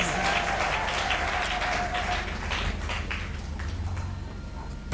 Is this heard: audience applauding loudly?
yes